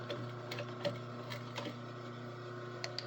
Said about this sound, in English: if this is the long seam where the bobbin finally runs out